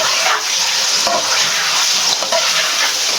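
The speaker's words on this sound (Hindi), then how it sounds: "तो हम ये सारा जो हमारे पास चिकन है इसको हम इसमें ऐड कर देंगे आराम से, और 5 मिनट हम इसको फ्राई करेंगे" Chicken with curry leaves frying in a pan, giving a loud, dense, continuous sizzle close to the ear, broken by a couple of brief stirring knocks and no speech.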